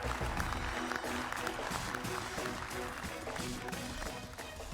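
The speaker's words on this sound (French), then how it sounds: "Énormément d'applaudissements pour Marine, s'il vous plaît" Audience applause for a contestant in a televised MasterChef cooking competition, continuous and fairly dense, with a faint murmur of crowd noise beneath the clapping.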